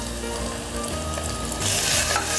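Garlic ginger paste sizzling and frying with softened pink onions in a pan, a steady close hiss with faint stirring scrapes, growing a little louder toward the end.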